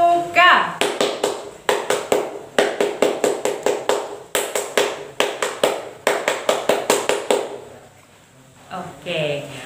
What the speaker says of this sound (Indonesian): mari kita 2 kali tepuk Pramuka